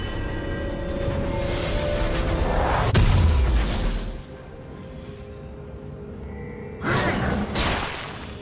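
A League of Legends turret being destroyed: a loud crash at about three seconds drops into a deep rumbling collapse. Game music and ambience play under it, and a second burst of noise arrives near the end.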